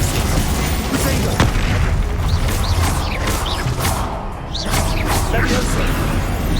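Fire-spell explosions and combat effects in the Hogwarts Legacy video game, with booming blasts, whooshes and crashes in a dense, continuous battle mix, while in-game voices call out spells.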